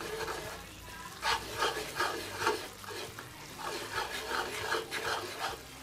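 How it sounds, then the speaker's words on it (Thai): Korat-style rice noodles (pad mi Korat) are stir-fried in a pan, steady rhythmic scraping and tossing strokes over a gentle sizzle, close and continuous, with no one talking. "นี่เราเริ่มผัดจนเริ่มง่วนแล้ว เราก็ผัดจนมันแห้งเลย"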